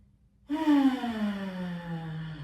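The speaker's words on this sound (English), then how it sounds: "Inhale through the nose, exhale through the nose. Silky, elongated Ujjayi breath." Slow Ujjayi yoga breath through the nose during a back-relief practice, one long, close breath that starts abruptly and trails off gradually with a soft, airy rasp, heard alone.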